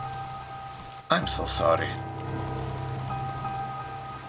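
Steady rain falls throughout, a constant soft hiss in the background while a person speaks briefly over it, the rain continuing alone afterward.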